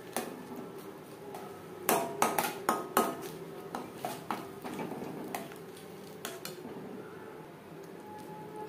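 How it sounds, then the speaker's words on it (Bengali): Ground lentil paste being stirred in a metal wok (kadai) for hing kachori filling, with a spoon scraping and clanking against the pan in irregular, fairly close taps and knocks, busiest in the middle of the stretch. "এভাবে নাড়াচাড়া করে ড্রাই করে নেব যতক্ষণ না পর্যন্ত কড়াই থেকে পুরোপুরি ছেড়ে আসছে।"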